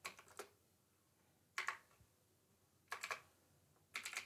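Quiet keystrokes on a computer keyboard while writing a Python program: four short clustered bursts of typing, separated by pauses of near-silence, close to the microphone.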